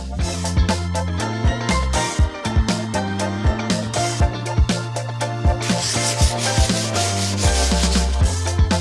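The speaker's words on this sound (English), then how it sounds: "Lightly scuff this up." Painted wooden built-ins are scuffed lightly by hand before painting, giving a steady rhythmic rubbing and scraping of abrasive strokes, close and continuous with no talk.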